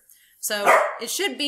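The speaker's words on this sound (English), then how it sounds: "That's my dog, by the way." A pet dog barks indoors at home while a person talks nearby, the short barks mixing with and partly covered by the speech.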